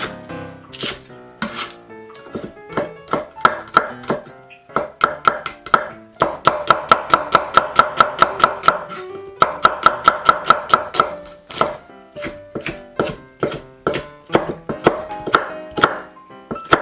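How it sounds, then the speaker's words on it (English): A knife chops vegetables on a cutting board for chow mein, with rapid, evenly spaced close taps in long rhythmic runs broken by short pauses and slower single cuts. "Now I'm going to chop the vegetable."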